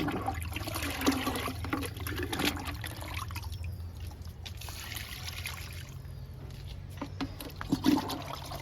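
Liquid fertilizer poured onto newly planted curry leaf plants after rain, a soft continuous trickle and splash of water running into soil, moderately close with steady low background hum outdoors.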